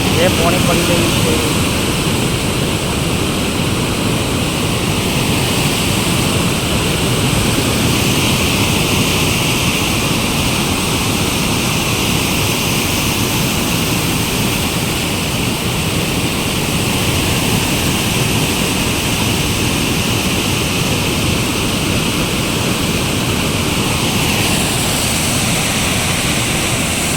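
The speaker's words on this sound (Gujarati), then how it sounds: "જે પાણી પડી રહ્યું છે" Canal water pours from a large pipe into Dantiwada dam, a loud, continuous roaring rush that stays steady and unbroken throughout, with no voices heard.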